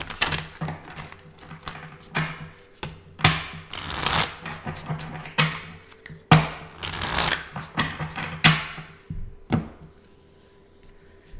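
An oracle card deck is shuffled by hand in repeated quick riffling bursts with papery flutters and soft taps, close and fairly loud, with no one speaking.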